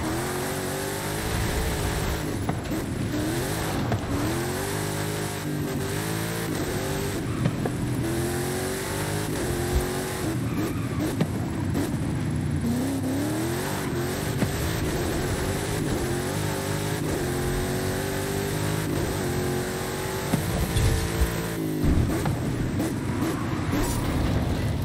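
A 2010 race car revving hard through a snowy winter rally speed zone in Forza Horizon 5, its engine rising and falling loudly and continuously as it accelerates through gear shifts.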